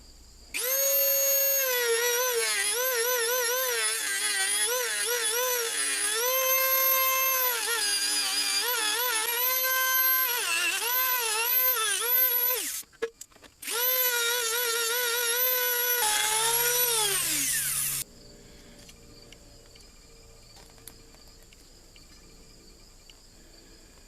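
A rotary tool or angle grinder cuts through the plastic handle of a metal oil dipstick on a Subaru WRX/STI/BRZ, giving a loud, steady high-pitched whine with pitch dips as the load changes, then briefly stopping and restarting before fading out.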